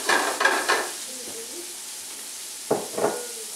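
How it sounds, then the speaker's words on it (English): Two short bursts of capellini pasta clattering into a hot pan, each flaring into a sizzle, over a low steady background hiss of browning butter. "The butter is browning just a bit, so I'm going to toss it in."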